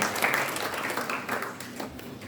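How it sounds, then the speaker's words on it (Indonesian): Church worshippers clap briefly at a Good Friday service, a dense patter of hands that holds at moderate loudness without any voices over it. "Tepuk tangan buat Tuhan."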